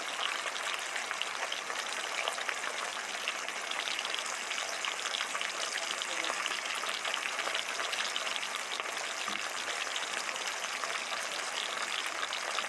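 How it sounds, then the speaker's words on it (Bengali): Ground poppy seed paste sautés in hot oil in a kadai with black cumin seeds and green chillies, making a steady, dense crackling sizzle that stays even and close throughout, with a faint clunk near the end. "বেটে রাখা পোস্ত পোস্ত দিয়ে একটু কষিয়ে নেবো"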